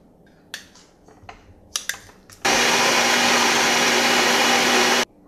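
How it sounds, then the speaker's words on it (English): A stand mixer creams a cup of Crisco shortening, starting after a few scattered clicks and knocks with a loud, steady motor whir held for under three seconds before stopping abruptly. "So first you need 1 cup of Crisco, and you are going to cream that in your mixer."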